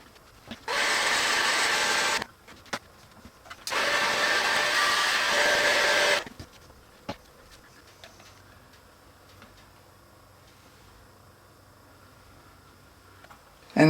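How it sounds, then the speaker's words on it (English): A heat gun, used to warm material and form it around an MDF heart, blows in two steady hissing bursts of about one and a half and two and a half seconds, followed by quiet with faint clicks and handling noises. "I'm going to use a heat gun, slowly heat this up, and we'll form it around our heart."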